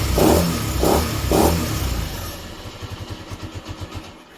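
A cold Honda XL motorcycle that has sat for weeks runs with three loud revs of its engine, then settles into a rough, throbbing idle of rapid pulses that fades toward the end.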